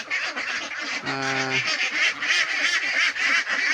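Pet ducks feed on banana and rice bran, giving one short honking quack among steady nearby bird chatter and feeding noise.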